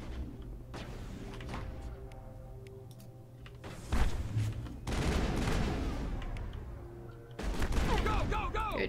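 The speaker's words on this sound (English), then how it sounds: "Tali's using a shotgun." Shotgun fire in the Mass Effect video game, heavy booming blasts in bursts amid other combat noise and game sounds, with some voices mixed in.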